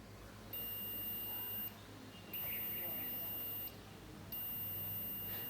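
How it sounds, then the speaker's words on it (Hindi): A continuity tester on a relay circuit gives three steady high-pitched beeps, each lasting about a second or more with short gaps between, clear against a quiet background. "अब बीप इसमें आएगी।"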